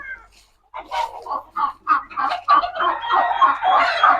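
Close, repeated clucking and low murmuring calls from a brooding turkey hen, a rapid run of short throaty notes with no talking.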